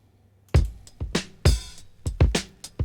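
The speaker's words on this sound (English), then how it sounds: "So here's what the drum break sounds like in real time." A hip-hop drum break played back at its original tempo: a quick, punchy pattern of booming kicks and crisp snare hits with bright cymbal wash, about seven strikes across a few seconds, alone with no talking.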